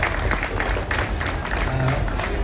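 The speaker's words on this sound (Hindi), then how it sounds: "तो एक बार जोरदार तालियां विक्रम सर के लिए।" A crowd at a tournament prize distribution claps steadily and evenly through the moment, a continuous wash of applause at moderate loudness with little talk.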